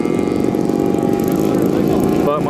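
A propeller airplane drones steadily overhead at an airshow, a continuous buzzing engine note that holds loud throughout, with voices faintly present underneath.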